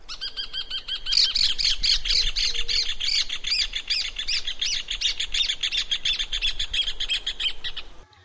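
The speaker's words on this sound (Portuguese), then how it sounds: "E agora, Furnarius rufus, o João de Barro, ave de área aberta, com voz com muita modulação temporal." Rufous hornero (Furnarius rufus) call: a loud, close, rapid series of sharp repeated notes forming a long rattling trill that speeds up and holds for several seconds before stopping abruptly.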